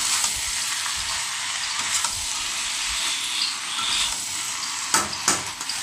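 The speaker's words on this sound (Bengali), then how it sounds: "ভালো করে মশলাগুলোকে আলুর সঙ্গে লাগিয়ে নেব" Potatoes and spices are stirred in a frying pan for a prawn and potato curry, a constant close sizzle broken by scraping spatula strokes and a couple of sharp clinks near the end.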